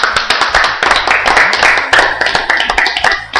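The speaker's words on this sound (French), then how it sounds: "Applaudissons pour le Seigneur." Church congregation applauding together, a dense burst of many hands clapping with steady rhythmic claps close by, loud and continuous throughout.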